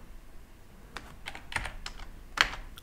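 Computer keyboard typing during an OpenBSD installation, a few quick, crisp key clicks in short irregular bursts with one louder final tap, close and clear with no voices.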